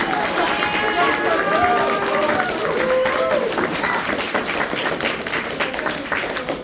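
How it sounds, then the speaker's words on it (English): Audience applause at a pony fan convention stage event in Vanhoover, a steady dense clapping wash held throughout, with voices and chatter mixed in over it. "a round of applause for the entire theming team, especially Fisher"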